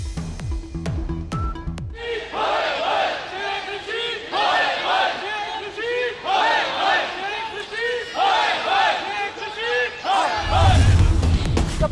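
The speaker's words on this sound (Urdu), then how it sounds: "مسافروں کا شدید احتجاج شیخ رشید کے خلاف نعرے لگا دیے" Train passengers protesting a long-delayed Shalimar Express chant slogans against Sheikh Rashid as a crowd, rhythmic shouted bursts repeating every second or so, loud and close, with a low rumble rising near the end.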